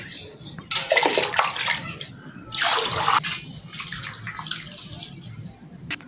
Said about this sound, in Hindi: दूसरा पानी डाल रही हूँ साफ करने के लिए